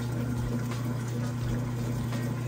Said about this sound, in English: You hear that drain running nice and fast.